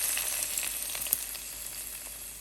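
Mustard seeds and chillies fried in oil crackle and sizzle steadily as they are tipped into a papaya erissery curry for a Vishu sadya, a close, even frying hiss with small pops throughout.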